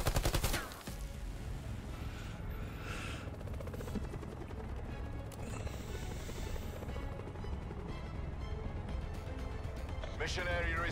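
A gun fires from the hip in a video game, a dense, continuous rattle of shots layered with a droning engine-like rumble, lasting throughout, with a voice talking along at times.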